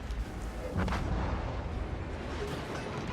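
Heavy cruiser guns on the USS Dallas fire in a naval battle in World of Warships: Legends, a dense rumbling barrage of overlapping booms with a sharper burst near the one-second mark, loud and continuous throughout.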